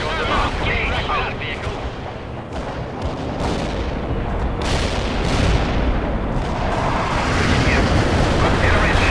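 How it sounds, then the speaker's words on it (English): Artillery shells explode in a strike in the World in Conflict video game, a dense, continuous barrage of loud rumbling blasts and booms with voices talking over the noise. "Artillery shells delivered on the mark."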